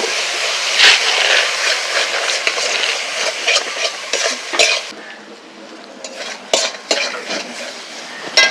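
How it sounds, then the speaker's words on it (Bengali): Spice masala for Sundarbans crab curry being stir-fried with sour yogurt in a pan, with steady scraping and stirring strokes of a spatula against metal and a soft sizzle underneath, fairly close and continuous, no talking. "আর টক দই এবার ভালো করে আমি মশলাটা কষিয়ে নেব"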